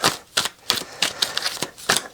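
Quick, crisp papery riffles in short irregular bursts, close up, tarot cards being shuffled by hand, with no talking.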